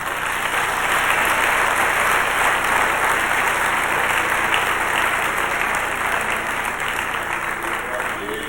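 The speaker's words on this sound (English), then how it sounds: "Let's have a great big round of applause for Paula Martin." Sustained audience applause greets the 1988 Tularosa Rose Festival Queen at a pageant, a loud, steady, dense wash of clapping that holds evenly throughout with faint crowd murmur underneath.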